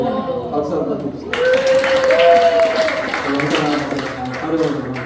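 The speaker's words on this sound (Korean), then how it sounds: "박수 한번 주세요." A church congregation claps during a Sunday worship service, a moderate burst of applause rising mid-clip over lingering voices and a sustained musical tone.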